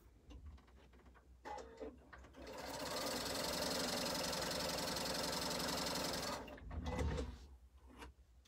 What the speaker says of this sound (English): And I'm going to sew this to this.